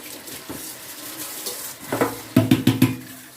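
Water running from a kitchen tap over washed dishes, pots and pans in a sink, with a few soft clinks early and then a burst of splashing rinses near the end, close by and without talk.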